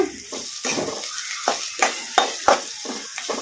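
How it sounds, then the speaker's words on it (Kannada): Onions dropped into hot oil in a kadai and stirred, a steady sizzle with several sharp scraping strokes of the spoon, close and fairly loud with no voices. "ಎಣ್ಣೆ ಕೂಡ ಬಿಸಿಯಾಗಿದೆ ಈಗ ಇದಕ್ಕೆ ಉಳ್ಳಾಗಡ್ಡಿ ಹಾಕೋಣ ಎಣ್ಣೆಗೆ ಕಲಸ್ಕೊಂಬಿಡೋಣ"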